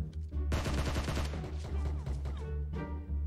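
Gunfire in the PUBG battle royale game, rapid bursts of automatic shots with sharp cracks and echoing tails, loud and close, with a pause between volleys and a final burst.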